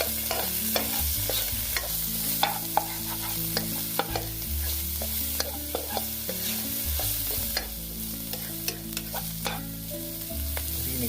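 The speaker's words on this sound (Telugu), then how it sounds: "సాల్ట్ మనకి టేస్ట్ తగ్గట్టు వేసుకుని దీన్ని బాగా హై ఫ్లేమ్ మీద కలుపుకోండి" Rice being stir-fried in a pan over a high flame for veg Schezwan fried rice, with steady sizzling and repeated scraping clinks of the spatula against the pan, no voices.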